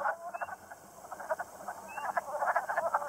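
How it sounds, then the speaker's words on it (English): Wood frogs call in a spring pond, a chorus of rapid, duck-like clucking croaks in quick bursts at moderate distance over a faint background hiss. "Wood frog calls are often the first frogs we hear, and when I hear them, I know that spring is really here."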